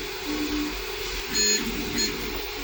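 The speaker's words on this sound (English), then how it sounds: "But wait, I have a 3D printer now." A 3D printer runs with a steady mechanical hum, small motor whines rising and falling in brief pitched bursts.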